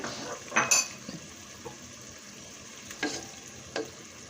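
A mixed spice paste for a beef dish fries in a pan, giving a steady sizzle with a few brief metal scrapes and clinks of stirring close by, and no talking.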